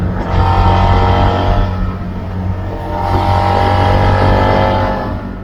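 A Suzuki SV650 V-twin motorcycle rides along with a loud, steady engine drone that swells and eases slightly as it is ridden, with wind rush and no voices.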